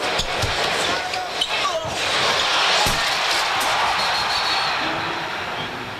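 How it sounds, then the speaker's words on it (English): Crowd at a 1993 Bulls vs Nets basketball game fills the arena with a broad, sustained roar that swells and holds, with a few sharp knocks and a ball bounce early on, and a voice speaking over it. "Well, we heard the crowd."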